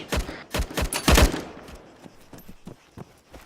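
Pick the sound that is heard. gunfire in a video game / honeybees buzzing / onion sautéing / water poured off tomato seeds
gunfire in a video game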